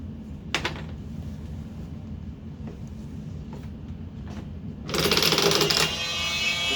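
A MasterForce oscillating multitool runs at its lowest speed with a steady, low, buzzing hum, then a brighter, louder buzz surges in partway through and continues to the end.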